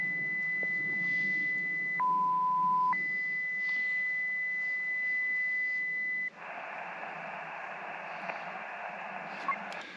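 A ham radio operator tunes up on the band during a winter Parks on the Air activation: a steady whistling carrier tone jumps down in pitch, returns, then gives way to a broad hissing burst that runs to the end.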